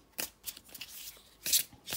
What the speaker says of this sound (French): Mais je vais mélanger le jeu, je pense, pour tout le tirage.